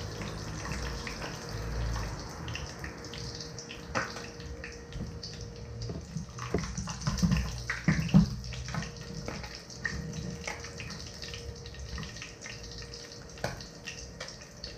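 Water runs from a tap in a home kitchen while a Filipino sinigang with fish and string beans is being cooked, a continuous moderate splash with irregular clinks and knocks of utensils over it.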